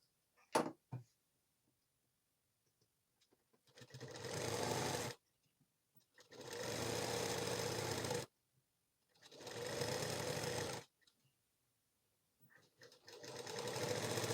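An electric sewing machine stitches a band on a blouse in three long steady bursts of rapid whirring, each a few seconds long and separated by quiet pauses, close and loud, with a few faint clicks before the first run.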